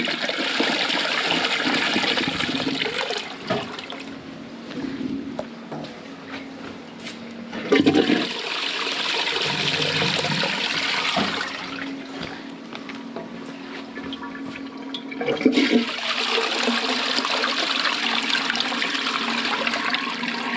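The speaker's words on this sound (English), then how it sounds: "I'm just going to keep flushing these toilets until they start filling up so we can get a nice head of water on the blockage" Toilets flushed again and again to build a head of water against a blockage at a vet clinic, each flush a loud rushing surge of water with gurgling refill and trickling between, three distinct bursts up close.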